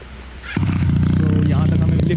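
Motorcycle engine on a mountain road near Nainital, starting abruptly after a quiet moment and then idling or running with a steady low throb close by, with voices talking over it.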